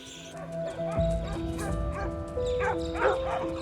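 A domestic dog, a young male border collie, barks and yips excitedly at close range, mixing sharp barks with whimpering, whiny tones.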